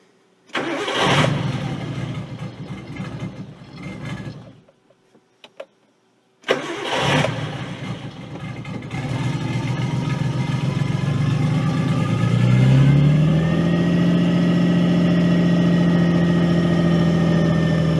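Nissan 240SX S13 with a swapped RB20DET engine cranks twice, with a short gap between attempts, then catches and settles into a loud, steady idle that rises and holds, close by.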